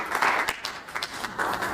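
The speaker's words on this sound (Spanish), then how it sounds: "vamos a darle un aplauso" A church congregation claps in a brief burst of applause, scattered hand claps swelling and fading over a couple of seconds.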